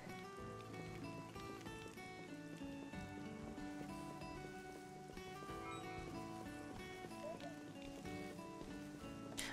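Rain pours steadily in a Xenoblade Chronicles 2 scene, a dense continuous hiss of falling water mixed under game music and ambient tones, moderately loud throughout with no clear voices.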